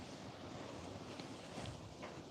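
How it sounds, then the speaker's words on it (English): Strong wind blows outdoors as a continuous, dense rush of noise buffeting the microphone, with slight surges but no pauses. No voices are heard. "It's so windy. So windy today. It's very windy."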